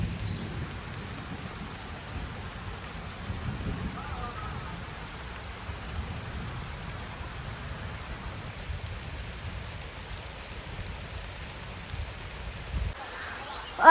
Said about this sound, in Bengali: বৃষ্টি প্রচুর ঠান্ডা ভাই গায়ে লাগতেছে